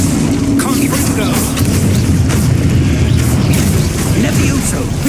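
A Confringo blasting spell goes off in the video game Hogwarts Legacy, giving a loud, booming explosive burst. Dense game effects and rumble sit under it, with a voice speaking over the din.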